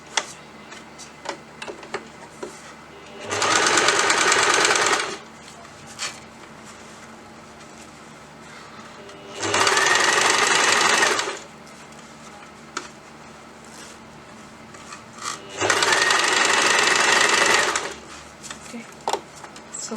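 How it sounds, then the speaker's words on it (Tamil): A sewing machine stitches folded piping fabric onto a tulip sleeve in three loud, steady bursts of about two seconds each, separated by quieter pauses filled with faint handling and brief speech. "இந்த பைப்பிங் துணி அழகாக தெரிகிற மாதிரி நம்ம இதை தைக்கணும்"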